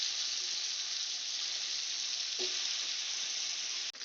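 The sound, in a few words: boiled egg frying in a pan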